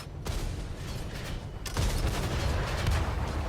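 Tank cannon fire in a tank video game, two heavy booming shots about a second and a half apart, each followed by rumbling battle noise, loud and close with no talk.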